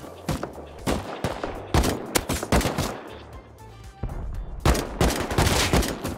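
Rapid bursts of gunfire in the survival game Rust during a base fight, loud repeated volleys of shots with short gaps, some overlapping into dense fusillades.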